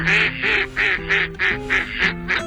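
A female mallard duck quacks loudly and close, eight evenly spaced nasal quacks in a steady descending-rhythm series with no other sounds.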